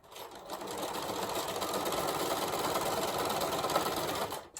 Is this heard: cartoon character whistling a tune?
no